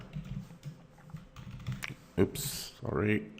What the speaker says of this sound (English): if we type here Mark,